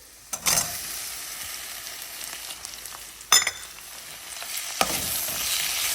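Tomatoes hitting a hot sambar tempering of hing and fenugreek, with sharp bursts of sizzling and spoon stirring in three distinct surges over a low background hiss.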